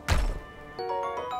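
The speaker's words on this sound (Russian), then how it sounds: "Она снаряд в меня выпульнула." A cannon projectile strikes the player in Zelda: Tears of the Kingdom, landing as one sharp, heavy thunk followed by a short tonal ringing.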